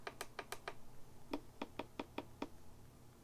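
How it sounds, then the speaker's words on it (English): Cue buttons on a Traktor Kontrol S2 or S4 MK3 DJ controller are tapped in a quiet series of light, evenly spaced clicks, a quick run of five followed after a short gap by six more. "I want you to hear the difference when we're clicking things. So on the left, we'll start clicking some of the cues."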